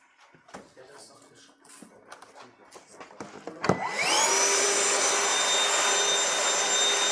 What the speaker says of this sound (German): Gib mal den Staubsauger.